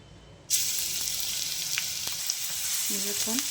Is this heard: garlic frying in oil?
yes